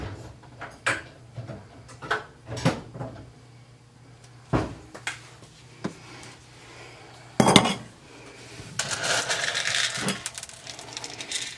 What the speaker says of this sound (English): I'm going to start with a quarter cup of pasta in each of my jars.